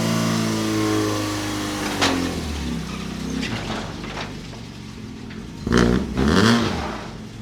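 A Honda CRX engine with a stiff clutch runs close by in a steady mid-pitched hum, rising in a couple of short revs near the end, with no talking.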